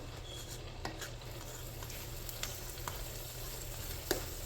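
Butter sizzles and crackles softly in a hot pan beside fried hot water cornbread, a steady low frying hiss with a few faint utensil taps, heard up close and quiet, with no voices.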